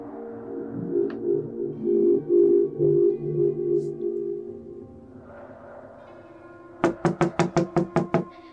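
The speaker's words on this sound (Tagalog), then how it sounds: "Pagkatapos marinig ang sunod-sunod na katoka sa labas ng kanilang pintuan." Repeated knocking on a house door: seven sharp, evenly spaced raps in a fast burst near the end, loud and close, following a stretch of soft background music.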